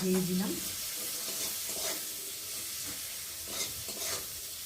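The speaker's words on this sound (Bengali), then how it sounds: "পেঁয়াজটা একটু ভালো করে ভেজে নেবো, সাথে করে কাঁচা লঙ্কাও দিয়ে দিলাম।" Onion frying with green chilies in a pan, a steady soft sizzle with occasional scraping stirs, fairly faint, and a brief voice-like tone near the start.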